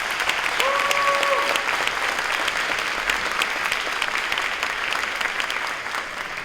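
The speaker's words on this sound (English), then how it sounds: "Let's give them another big round of applause." Audience at an elementary school first grade performance gives a sustained round of applause, dense clapping that slowly thins toward the end, with a brief electronic tone near the start.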